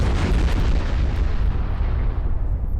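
Naval guns of a warship in a war game fire armour-piercing rounds in a loud, continuous roar of blasts and rumbling explosions that fills the whole stretch, close and heavy.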